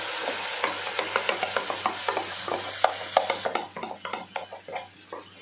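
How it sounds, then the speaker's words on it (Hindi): Gravy for malai kofta goes into a hot pan with chilli-spiced base, followed by a steady rhythm of spoon stirring against the pan over a soft sizzle, close and distinct. "अब डालेंगे हम अपनी ग्रेवी इसके अंदर"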